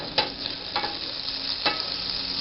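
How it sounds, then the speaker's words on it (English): Olive oil and butter sizzling in a hot skillet, a steady crackling hiss broken by a few sharp spatters and pops, close and fairly loud with no voices. "I'm going to add a tablespoon of olive oil and 2 tablespoons of butter to a hot skillet."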